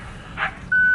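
A car's parking sensor beeps as dogs walk around the vehicle, a short tone followed by a loud, steady continuous beep close by.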